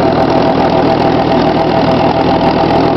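A 1954 tractor engine runs steadily in the cold, a loud continuous mid-pitched idle-like drone with no break, as its tires spin without grip.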